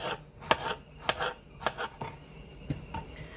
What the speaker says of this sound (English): I like to just chop mine up